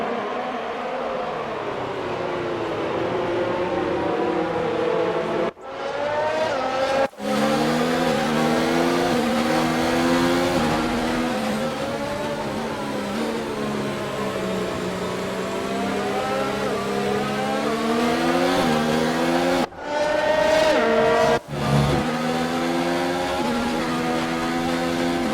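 A Mercedes AMG Formula 1 car in the F1 2019 racing game, driven at the Hungarian Grand Prix, its high-pitched engine screaming loud and continuous through rising and falling revs, broken by a few sharp drops during gear changes.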